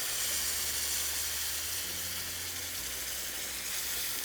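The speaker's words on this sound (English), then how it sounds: "add 12 ounces of Mexican Coke" Mexican Coke poured into a hot pot of beef for carnitas, producing a continuous loud hiss and sizzle that holds steady throughout with no talking.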